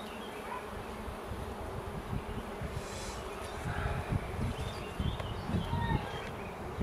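Honeybees buzz steadily around an open hive during a spring inspection, a dense close swarm drone with occasional louder passes near the listener.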